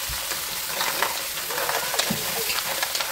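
Mussels cook in salt in a pan, giving a steady close sizzle with crackling and light scraping, and no talking.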